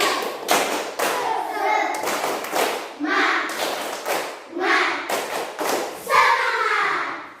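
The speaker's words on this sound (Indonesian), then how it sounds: "Tepuk semangat." Schoolchildren in a classroom perform a rhythmic spirit clap, sharp patterned bursts of group clapping and thumps alternating with chanted voices, loud and close, repeating in several rounds.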